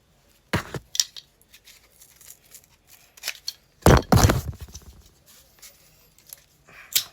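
Scissors snip through material for a Red Hood cosplay cut-down, with a few sharp close cuts and rustling of the material between quieter handling sounds.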